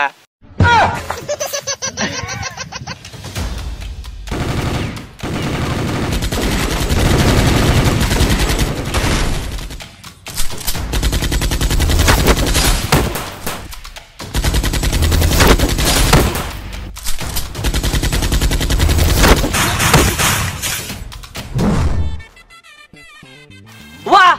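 Gunfire in the mobile shooter Free Fire, loud bursts of rapid automatic shots and single cracks in several long stretches, with brief gaps and laughter and talk mixed in.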